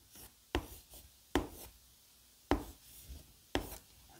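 Chalk or marker strokes on a board form a character, heard as sharp scratchy taps and short scrapes in an irregular rhythm, close and fairly quiet, with no talking.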